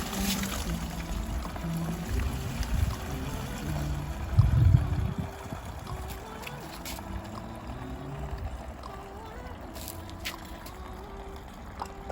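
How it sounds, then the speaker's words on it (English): Cleaning fluid drains out of a removed, soot-blocked diesel particulate filter from a Nissan Qashqai, a steady pouring, gurgling wash with a louder surge midway, close by and with no talking. "what I'm going to do is I'm going to release the fluid now."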